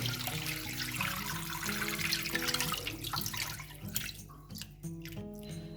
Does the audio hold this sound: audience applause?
no